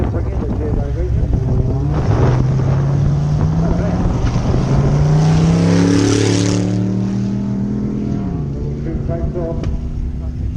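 Twin-turbo V6 all-wheel-drive Mitsubishi GTO launching down a drag strip, a loud engine roar climbing steadily in pitch through successive gear changes, then fading as the car pulls away, with crowd chatter and ambient noise underneath.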